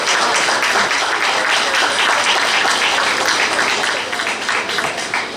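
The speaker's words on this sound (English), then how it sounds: "And he should be given a round of applause." A crowd applauds at an indoor morning launch event in San Fernando, Trinidad, with dense, steady clapping holding loud throughout and easing slightly near the end.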